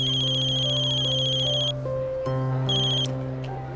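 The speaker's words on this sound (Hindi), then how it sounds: "अब फोन बज रहा आपका।" A mobile phone rings close by, a loud repeating electronic ringtone with bright tones that pauses briefly and then resumes.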